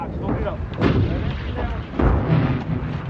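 Heavy artillery fire during the Gulf War battle for Khafji booms in repeated deep blasts with rumbling echoes, loud and close, under a narrator's voice.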